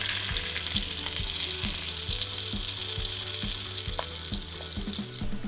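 A fish fillet fries skin-side down in fresh oil, a loud, steady close-up sizzle with crackling hiss and faint regular ticking pops running throughout.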